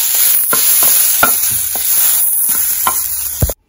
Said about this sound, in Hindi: आप देते हैं इसको गर्म होने ऑयल को, स्टर फ्राई करेंगे थोड़ा।